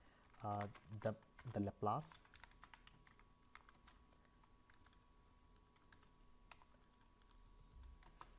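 Typing on a computer keyboard while writing code in MATLAB: someone speaks briefly at first, then faint, scattered key clicks tap along quietly.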